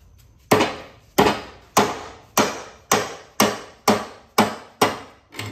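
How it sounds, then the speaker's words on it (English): A dead blow hammer strikes a ratchet nine times in a steady rhythm during a John Deere 318 mower deck rebuild, each blow a close, loud, sharp thud that decays quickly, with no talking. "I know you're not supposed to hit your ratchet with a dead blow"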